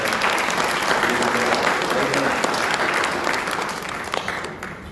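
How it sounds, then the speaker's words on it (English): Congregation at a morning church service gives a lively round of hand clapping, loud and dense, then gradually fading toward the end. "I want to ask you now to give them a real hand clap."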